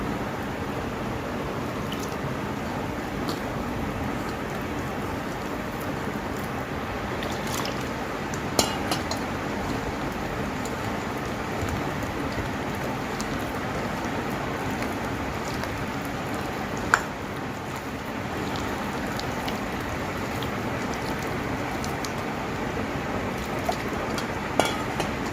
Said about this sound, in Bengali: এবার আমি এর মধ্যে জল একটু একটু করে জল দেব